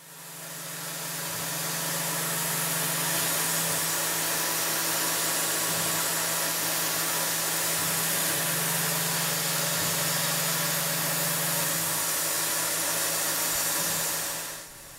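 A CNC milling machine runs a Fusion 360 surfacing toolpath at a 7.5 thou stepover, giving a steady, loud mechanical whir with a constant low hum that holds for about fourteen seconds before tapering off, with no talking.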